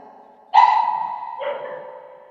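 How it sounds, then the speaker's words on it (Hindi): Street dogs bark outside in two loud, close bursts, the first sharp and the second a softer follow-up, with no talking over them. "ये बाहर बाहर गली के कुत्ते हैं"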